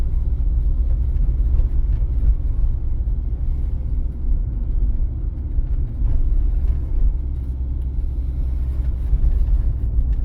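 A car drives in second gear along a residential street lined with parked cars, its engine a steady low rumble with mild surges, close and continuous with no talk.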